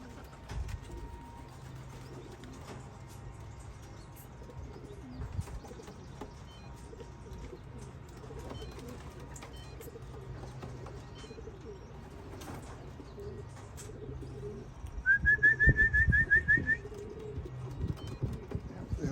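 Racing pigeons arrive back at the home loft after an old bird race, with soft cooing and faint wing flutters over a quiet low hum, then a brief, louder burst of activity near the end.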